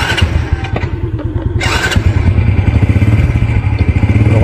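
Motorcycle engine running close by at a beach outing, a loud sputtering putter that settles into a rapid steady idle pulse.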